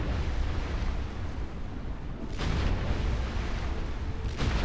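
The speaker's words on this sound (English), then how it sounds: "I'll just bring up the wheeled mortar and sink it." Wheeled mortar firing at an enemy clipper in the video game ArcheAge, heavy booming blasts over a constant rumbling background, with two sharper reports landing about two seconds apart.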